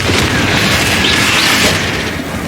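A Confringo spell explosion in Hogwarts Legacy bursts with a loud, sustained booming roar and crackling, sweeping whoosh, close and dense for a couple of seconds before easing slightly, with no talk over it.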